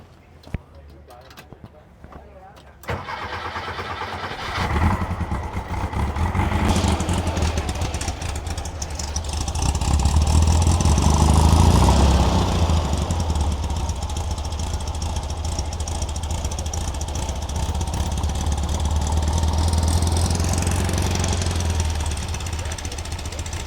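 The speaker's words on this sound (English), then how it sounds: "It sounds like a racing engine." A 1966 VW Bus engine runs steadily and loud at close range after a quiet start, with its throaty rumble swelling midway and then holding at a constant idle.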